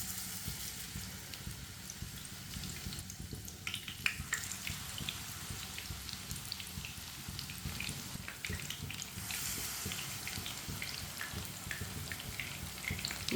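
Eggplant pieces fry in hot oil over a low flame, giving a steady, even sizzle that crackles continuously at close range without any talk.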